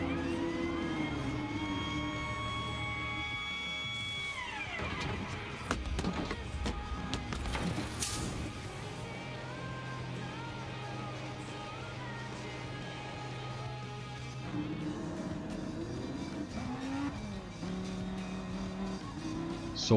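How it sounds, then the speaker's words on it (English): A Gr.3 race car pits at Circuit de Spa-Francorchamps in Gran Turismo Sport: the engine note drops as the car slows into the pit lane, idles through a busy mechanical tire change and refuel, then revs back up to leave. "we are going now into the pits to change our tires and to do refuel"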